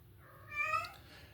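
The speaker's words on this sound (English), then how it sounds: "That would be my cat, Soy Sauce." A single cat meows once, faint and fairly close in a quiet indoor room, its voice rising and falling for about half a second.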